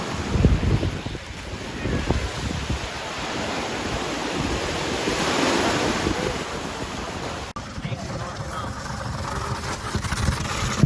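Ocean waves roll and crash on the shore at Santa Rosa Beach, a continuous wash of surf heard amid heavy wind noise on the microphone, with no talking over it.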